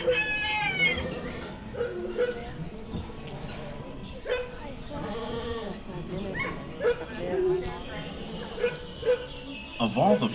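A dog barks and yips on a farmhouse porch in a few scattered bursts, mixed in under ongoing talk and other background sound.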